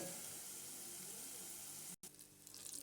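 Corn and onion pakodas sizzle in hot oil, a steady, fine frying hiss that cuts out for an instant and then resumes more faintly.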